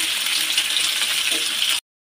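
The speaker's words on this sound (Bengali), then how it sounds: "এখানে সবজিগুলো ভাজা হয়ে গেছে" Vegetables frying in a pan with salt, a steady broadband sizzle close up that continues without a break and then cuts off abruptly near the end.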